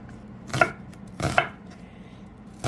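Onion being chopped with a knife into thick pieces on a board, three distinct close thuds spaced irregularly over a quiet background, no talk.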